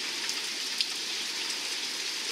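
Water siphons into an overfilling rain barrel in a DIY rainwater storage setup, giving a steady, even splashing hiss with faint drips, close and continuous, with no talk.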